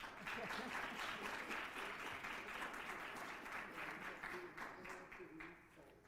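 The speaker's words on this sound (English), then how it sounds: "If you're at home, you can clap, and if you're in person, you can clap." Applause from a gathered crowd welcoming President Breaux at a faculty institute, a steady wash of clapping that holds for several seconds at low level, faint and distant, with a few voices mixed in.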